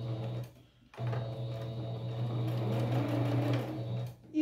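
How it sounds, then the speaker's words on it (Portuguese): A sewing machine stitches patchwork fabric scraps for a rug, running in a steady motorized whir after a brief pause, close and fairly loud, with no talking. "Vamos costurando."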